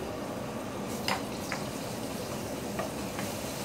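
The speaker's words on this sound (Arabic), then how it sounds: "أحط الثوم عشان يسوي الكشلة" Garlic sizzles in a hot pan for a coriander kashla, a steady soft frying hiss with a few light clinks of stirring, close and fairly quiet.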